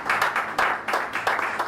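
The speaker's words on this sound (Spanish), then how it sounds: "Yo quiero que le regalemos un fuerte aplauso, pero al Espíritu Santo esta mañana," Audience clapping at a Christian fellowship meeting in San Felipe, a brief burst of applause in uneven waves, moderately close and with no talk over it.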